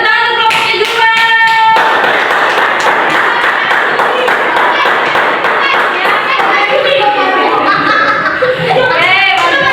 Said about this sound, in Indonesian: boleh tepuk tangan untuk kelompoknya juga